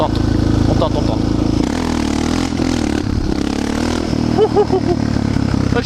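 A Yamaha TTR 600 supermotard motorcycle engine drones and revs while being ridden, loud and close, with wind buffeting and a rider's voice speaking over it.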